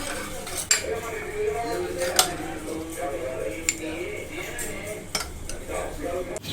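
Paneer curry spooned from the pot into a bowl, with a few sharp metal-on-dish clinks spaced irregularly over a steady kitchen background and faint voice-like murmur.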